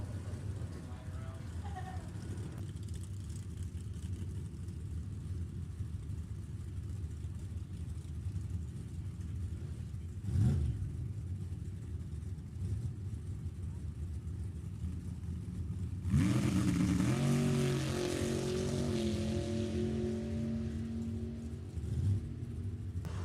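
Nostalgia hot rod drag car making a run at an NHRA Heritage Series drag strip, heard as a steady engine rumble with a sharp surge near the end, while an announcer talks over it throughout.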